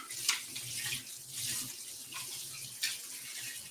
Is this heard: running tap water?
yes